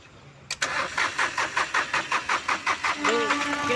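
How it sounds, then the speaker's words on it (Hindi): A Volkswagen Polo diesel engine cranks with a rapid, even chugging for about two and a half seconds before catching late and settling into a loud, close idle. "क्रैंकिंग ज़्यादा ले रहा है, लेट से स्टार्ट हो रहा है"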